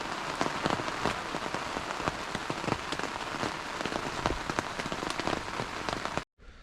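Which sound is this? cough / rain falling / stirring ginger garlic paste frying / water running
rain falling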